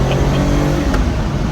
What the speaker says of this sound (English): When the turbos kick in, you know it